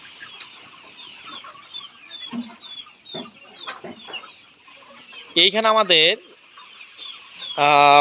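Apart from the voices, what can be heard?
chickens clucking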